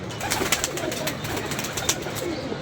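Soft pigeon cooing against a steady outdoor background hiss, with a few faint bird calls scattered through; no talking.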